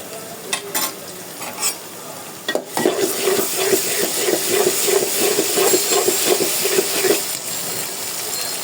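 Ginger-garlic paste fries and is stirred in a pan, with scattered scrapes early on and then a steady, close sizzle carrying rhythmic spatula scrapes that fades slightly near the end; nobody speaks.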